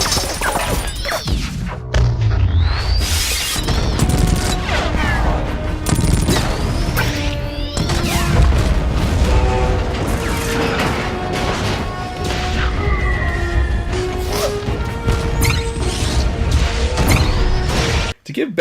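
A dense, loud Transformers action movie soundtrack with booming explosions, crashes and whooshes layered over music and effects, with voices briefly cutting through the din.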